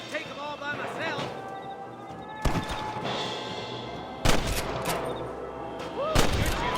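A gunfight in Red Dead Redemption: sharp single gunshots crack out at intervals over a busy bed of game ambience, with voices talking through the exchange.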